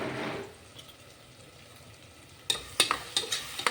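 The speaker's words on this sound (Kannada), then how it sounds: "ಎಲ್ಲ ಹಾಕಿ ಮಿಕ್ಸ್ ಮಾಡ್ಕೊಳ್ಳಿ" Garam masala, chili powder and turmeric powder are stirred in a pan for tomato bath, a soft sizzle running underneath until a cluster of sharper scrapes and taps of the spoon near the end.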